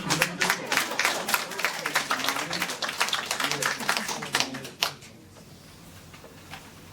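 An audience at a Busan writers' association public literature lecture claps in a dense burst for several seconds before it fades to a quiet room, with a voice speaking over it.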